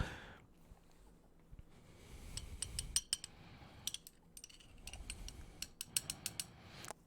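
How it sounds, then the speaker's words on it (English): Metal wrenches are handled up close for an ASMR stream, giving scattered light clinks, ratcheting clicks and soft knocks in uneven bursts over quiet background, with no talking. "I've brought all kinds of wrenches, and not the people. These are actual tools this time."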